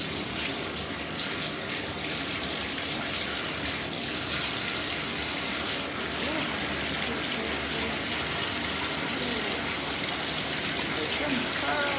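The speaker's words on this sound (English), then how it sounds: "let's wash this mug" A ceramic mug being washed under a running tap, steady close gushing water that stays constant and fairly loud throughout with faint handling noises mixed in.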